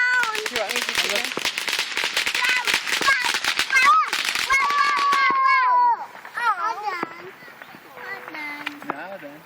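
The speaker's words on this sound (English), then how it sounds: "Yeah, fireworks." July 4 fireworks and firecrackers pop and crackle in rapid, dense bursts that then thin out, heard nearby with people talking over them.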